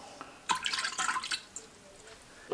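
Water poured into a pot while making golden milk with coconut milk, heard as a close burst of splashing and trickling liquid for about a second, then a few scattered drips, with no talking.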